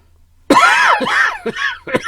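A voice imitates a raspy old man's cough: one harsh, loud burst followed by a few shorter hacking coughs, close to the microphone.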